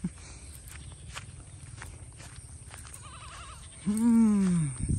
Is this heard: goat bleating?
yes